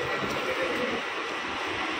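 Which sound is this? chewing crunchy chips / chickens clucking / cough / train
train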